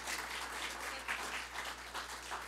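A round of applause for two people at an executive institute event, an even crowd clapping that sounds quiet and somewhat distant and fills the moment without pause.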